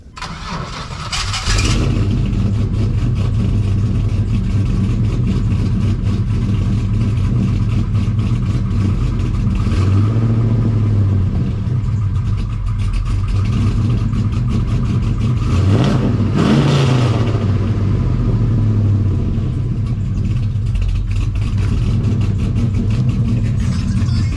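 A car's cold start before loading onto a trailer: a brief crank, the engine catches and settles into a loud, close, rumbling idle, with two short revs swelling and dropping back partway through.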